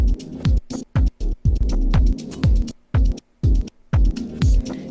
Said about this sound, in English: some gate effects.